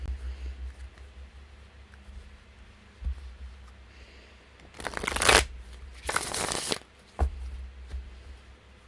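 Quiet room tone, then two bursts of tarot cards being shuffled, a brisk riffling flutter lasting about a second each.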